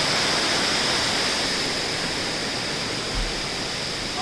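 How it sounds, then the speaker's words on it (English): A steady, loud rush of falling water pours without a break at Connestee and Key Falls in western North Carolina, heard from above the cascade. "this is the first waterfall here in Northern Carolina that I've been to that you're actually above the waterfall looking down"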